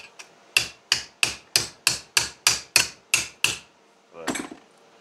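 Ten sharp, evenly spaced hammer blows on metal ring out close by, followed by a brief scraping rub.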